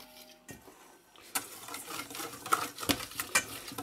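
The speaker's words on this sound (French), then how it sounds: "pareil, on mélange" A spoon works through a spice marinade of turmeric and sesame seeds for beef skewers, giving soft wet scraping and patter in uneven strokes after a couple of sharp knocks, close up with no talking.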